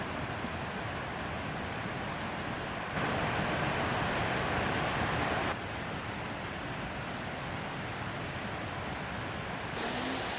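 Pang Sida waterfall in the rainy season: a steady, dense rushing roar of water that holds at an even, moderate level with no voices.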